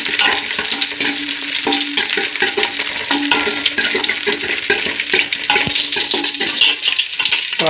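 A pan of onions and curry leaves fries loudly for a country chicken dish, its constant sizzle broken by repeated scraping strokes of a stirring spoon.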